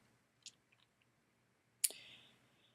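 A computer mouse clicking in a quiet room: a few faint, small ticks followed by one sharper, crisp click with a short trailing tail.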